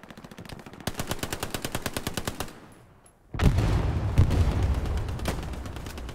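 Rapid automatic gunfire from a video game shooter, a steady burst of closely spaced shots that briefly drops out, then resumes as a denser, heavier volley with booming low impacts.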